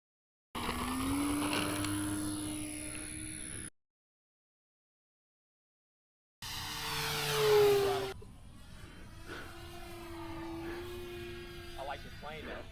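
An RC model airplane at a flying field drones overhead with a steady, fairly loud engine tone that cuts out, returns and swells as it passes, while people talk nearby.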